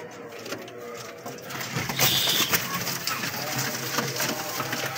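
Pigeons coo softly in a loft holding about 22 birds in Lahore, Pakistan, low and intermittent beneath background rustling and a brief burst of noise.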